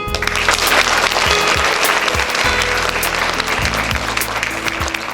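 A theatre audience applauds after a Bengali stage drama, sustained dense clapping from a crowd, loud and continuous, with a few sharper individual claps standing out and faint voices underneath.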